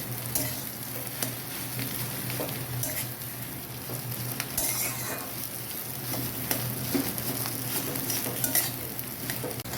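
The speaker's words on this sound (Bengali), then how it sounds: "আমি ভালো করে এই মিশ্রণটাকে তেলে ভেজে নিই" A potato mixture frying in oil as it is stirred, with a close, busy crackling sizzle broken by repeated spoon scrapes and knocks against the pan, steady from beginning to end.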